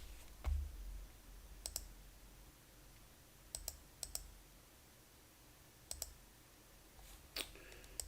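Computer mouse clicking at a desk, a handful of crisp, isolated clicks spaced irregularly over quiet room tone, close and fairly faint.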